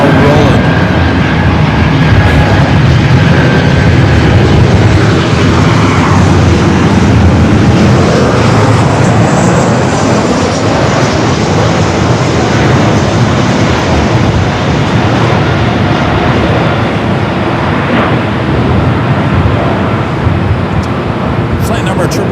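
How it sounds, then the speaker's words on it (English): A Boeing 777 rolling on takeoff at LAX, its broad, steady jet roar carrying loud and even throughout with no break. "South Cam 2 capturing the 777 now rolling"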